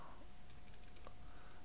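Keystrokes on a computer keyboard while entering a Cisco CLI banner command, a short quiet run of light clicks in a low hum with no talk.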